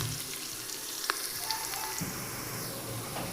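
Onions fry in oil in a pan until golden for an Indian-style chicken mandi, giving a steady, quiet, close sizzle with a few faint stirring clicks and no talk.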